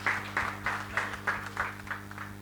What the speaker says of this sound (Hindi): ये तालियां नहीं रुकनी चाहिए।